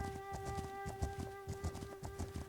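Horse hooves galloping in the video game The Legend of Khiimori, a quick, rhythmic clip-clop of hoofbeats over a steady tonal game hum, fairly faint, with no talking.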